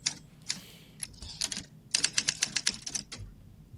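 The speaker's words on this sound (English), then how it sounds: "Give me a typewriter to segue out to the outro for Fawcett." A typewriter sound effect clacks through a rapid run of keystrokes, starting with a few scattered hits and then speeding into a dense, rhythmic burst, close and crisp with no voices.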